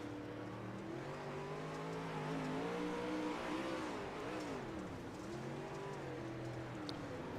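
Onboard the number 88 race car in a dirt-track sim race, the engine drones steadily with rising and falling harmonics as it revs through the corners, loud and continuous throughout with no voices.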